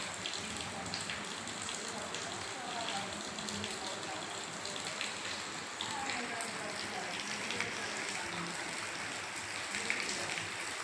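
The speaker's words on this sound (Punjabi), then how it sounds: "ਦੇਖੋ ਜੀ ਕਿੰਨਾ ਮੀਂਹ ਪੈ ਰਿਹਾ" A continuous, even hiss of heavy rain pouring down steadily throughout, with faint voices underneath.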